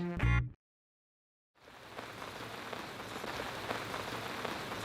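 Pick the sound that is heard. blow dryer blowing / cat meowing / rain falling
rain falling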